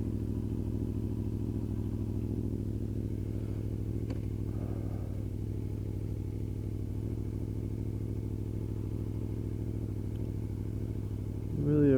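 A motorcycle rides along with a steady low engine drone throughout, close and constant with no clear revving, ending in a short louder burst.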